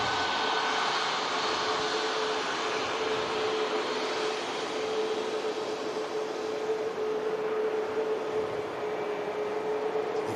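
A Ryanair jet airliner taxis off the runway at foggy Manchester Airport, a steady loud engine roar with a sustained whine that holds evenly throughout.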